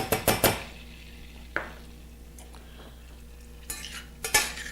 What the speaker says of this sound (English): And we just wanna stir that until it just becomes all blended together and make a little butter and flour roux.